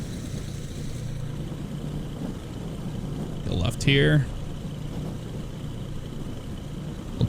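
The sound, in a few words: Beechcraft Baron B58 engines and wind, X-Plane 11 video game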